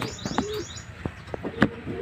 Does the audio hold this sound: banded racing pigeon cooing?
yes